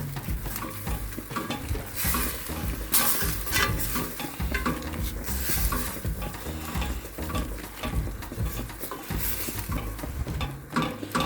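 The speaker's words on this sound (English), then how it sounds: "Give this a stir around." A spoon stirs a meat ragu with tomato paste for lasagne in a hot pan, steady sizzling and bubbling under repeated scraping and clattering strokes, close and continuous throughout.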